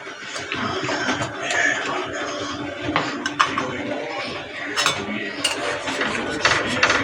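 Tomato paste cooks and is stirred in a hot kadai for momo chutney, with a spatula scraping and tapping the metal pan over a soft sizzle. The clatter is irregular and fairly close.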